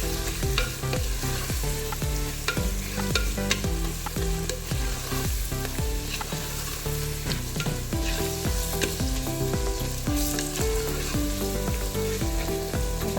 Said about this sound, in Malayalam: 3 ചെറിയ തക്കാളി അത് കട്ട് ചെയ്തിലേക്ക് ചേർത്ത് നന്നായിട്ട് വഴറ്റാം